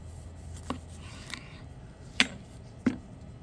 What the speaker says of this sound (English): I'm going to cut these guys apart.